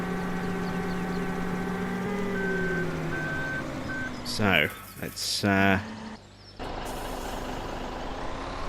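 A truck backs up to unload in Farming Simulator 17, its reversing beeper sounding steadily over engine hum, then loud air-brake hisses in bursts before the engine idles on; someone speaks briefly.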